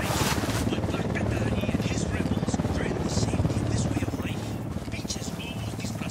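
Enemy Unidad helicopter in the video game Ghost Recon Wildlands, its steady rotor throb and engine drone running continuously at moderate loudness beneath game sounds and brief chatter.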